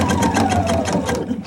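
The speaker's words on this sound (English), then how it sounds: "I'm going to baste from the raw edge" Sewing machine runs a steady, rapid basting stitch through shirt fabric, its needle rattling in an even mechanical rhythm that fills the short moment at close range.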